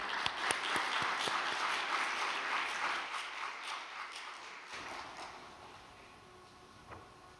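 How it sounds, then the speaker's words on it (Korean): A congregation applauds warmly to welcome a speaker coming forward during an overnight church gathering: full, sustained clapping that gradually thins and fades toward the end, with a few scattered claps lingering. "나오실 때 따뜻한 환영의 박수 부탁드립니다."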